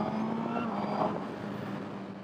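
A 2022 Suzuki GSX-R 1000R motorcycle accelerating toward 7,000 RPM, the engine note rising steadily in a loud, close, continuous whine with some wind rush.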